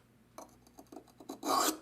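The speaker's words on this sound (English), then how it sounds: "We'll put a little WD-40 on a fairly inexpensive whetstone and kind of rough out the edge on this." A knife blade is rubbed across an inexpensive whetstone lubricated with WD-40, giving a quiet series of short rasping strokes that ends in one longer, louder grinding pass close up.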